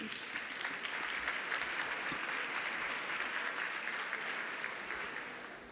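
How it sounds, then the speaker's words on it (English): Sustained applause from an audience for honorees at an AI awards ceremony, even and continuous and somewhat distant, tapering off slightly at the end. "give yourself a round of applause"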